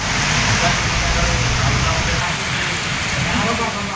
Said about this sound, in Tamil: பலத்த காற்றுடன் மழை பெய்ததால் கத்திரி வெயிலின் தாக்கம் குறைந்தது